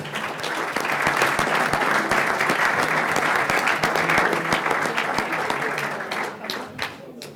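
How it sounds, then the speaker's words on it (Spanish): Audience applause at a Spanish sports forum in Aragon, a dense, steady wash of clapping that holds loud for several seconds and thins slightly toward the end. "Un aplauso, por favor."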